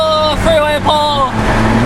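A Volvo S40 T5 AWD's exhaust drones steadily as the car accelerates hard on a freeway, with a sustained engine note running under an excited voice speaking over it.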